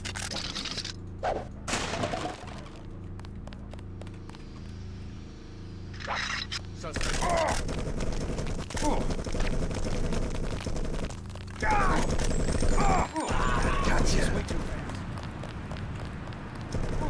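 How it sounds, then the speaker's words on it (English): Bursts of gunfire in the video game Deus Ex crackle in rapid volleys amid running footsteps and game ambience, loud and dense for long stretches, with a voice talking over the action. "Bro, stop shooting the civilians."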